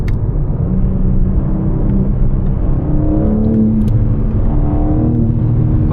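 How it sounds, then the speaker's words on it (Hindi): A BMW M4 Competition straight-six engine revs in a steady, loud rumble, the pitch climbing smoothly and then easing back, alone with no voices over it. "ये सिंपल प्लेन जो 6 सिलेंडर इंजन की साउंड आती है वैसी सी साउंड है"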